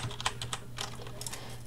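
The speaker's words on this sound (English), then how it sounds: "you just spam Z on your keyboard, the letter Z" Rapid typing on a computer keyboard, one key hammered repeatedly in quick irregular clicks, close and moderately loud with no talk.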